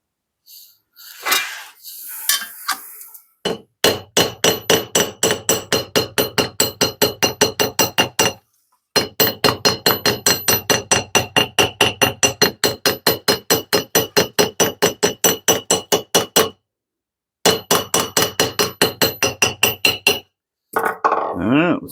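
Hammer striking the teeth of a dovetail saw to set them: rapid, evenly spaced metallic taps, close and loud, in several long bursts separated by brief pauses, with a short voice at the start and end.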